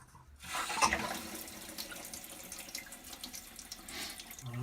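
A toilet flushes and refills after a flush-valve repair: a sudden rush of water starts, then settles into a steady, close refilling hiss and trickle, with no talk.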